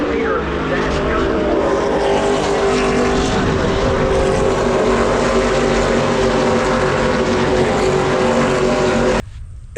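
Race cars leave pit road at Watkins Glen International in poor weather, their engines forming a loud, continuous, close-up roar that holds steady before cutting off abruptly near the end.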